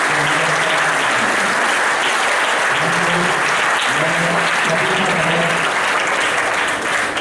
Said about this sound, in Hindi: तो एक बार रेशम के लिए जोरदार ताली बजाएं।